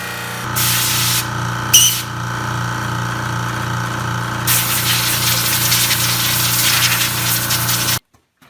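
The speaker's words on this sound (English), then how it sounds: "I'm going to fire the air compressor up and blow this stuff out." An air compressor's blowgun blasts air through an ATV air filter on a Polaris Sportsman 570, a loud steady hiss that keeps going in long bursts with a motor hum underneath and then cuts off abruptly.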